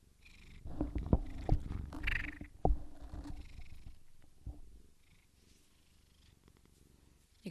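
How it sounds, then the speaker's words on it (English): A kitten purring steadily while curled in a person's lap indoors, the low rumbling purr close and continuous, swelling for a few seconds and then fading softer toward the end, with no talk over it. "You can probably hear my kitten in my lap."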